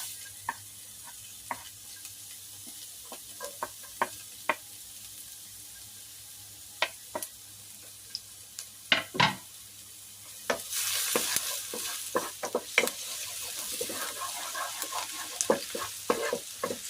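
Garlic fries in oil in a pan, with intermittent clicks and utensil taps at first, then a louder continuous sizzle with stirring scrapes in the second half.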